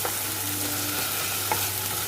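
Chili paste fries in oil for a fermented-fish gathi dish, a steady close sizzle broken by a couple of brief scrapes as a utensil stirs the pan.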